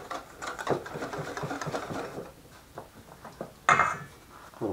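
Flour is whisked into beer batter in a bowl, a fast, rattling scrape of the whisk that comes in bursts, close by, with a few sharper knocks.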